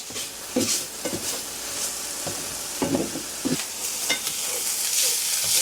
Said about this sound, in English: we're just gonna continue to break this meat up and get it nice and browned